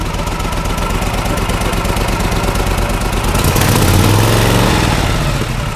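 A 1941 Harley-Davidson 1200cc motorcycle engine runs loud and close with a steady throb, then swells in a brief rev partway through before settling again.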